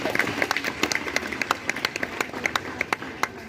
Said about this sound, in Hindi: उनका भी तालियां बजाकर सभी स्वागत करेंगे।